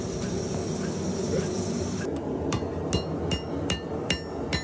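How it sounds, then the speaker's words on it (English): A steady mechanical roar gives way to a run of sharp, rhythmic power hammer blows forging a steel rail spike, about one per half second, loud and close. "I'm going to use this tool under the power hammer"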